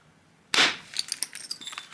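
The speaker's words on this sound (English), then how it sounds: "I'm looking to punch the stone into this platform here and drive that whole flake off" Stone struck against a flint core at about half a second, a sharp loud crack followed by a scatter of small ringing clinks and rattles as the flake comes away.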